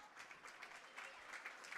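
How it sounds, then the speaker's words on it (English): Wrestling fans at a high school varsity boys dual meet clap for an injured wrestler, a brief, faint patter of scattered applause from the stands with no voices over it. "The North Hunterdon fans clapping for Tyler Redfield."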